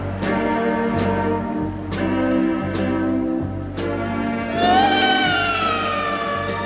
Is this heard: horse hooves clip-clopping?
no